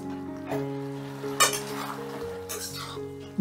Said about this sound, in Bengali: এবার সমস্তটা দিয়ে মিনিট 2 মতো নাড়াচাড়া করে রান্না করে নেব।